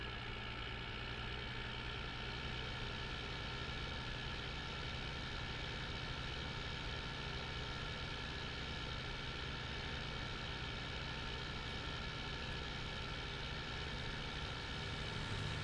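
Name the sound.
tractor engine idling in a video game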